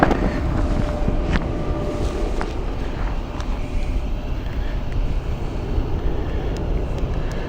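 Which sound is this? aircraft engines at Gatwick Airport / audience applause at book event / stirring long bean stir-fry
aircraft engines at Gatwick Airport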